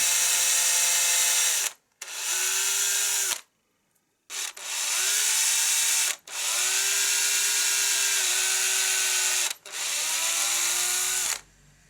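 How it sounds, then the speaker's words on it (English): An electric drill whines in several long bursts separated by short pauses, its pitch sagging as the bit bores about a centimetre into a puppet head for the eyes. "drill about 1 centimetre into the centre of each eye"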